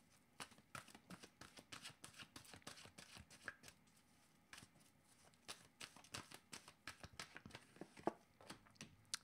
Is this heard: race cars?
no